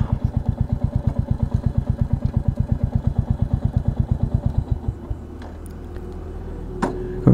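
A motorcycle engine idles with a fast, even thumping beat for about five seconds, then cuts off, leaving quiet background noise and a few faint clicks and knocks near the end.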